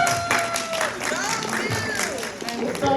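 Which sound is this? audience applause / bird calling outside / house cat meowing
audience applause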